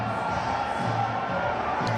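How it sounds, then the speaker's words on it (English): Pakistan supporters filling a cricket ground in Australia make a steady, distant crowd roar with faint cheering throughout, no single voice standing out. "The crowd and noise."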